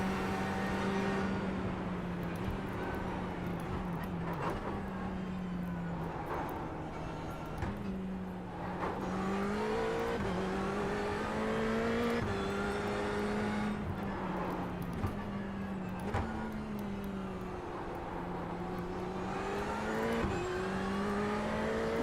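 In the Project Cars 2 racing game, race car engines run steadily through practice laps. A loud, continuous engine drone rises and falls with repeated gear shifts and revving over about twenty seconds, with no talking.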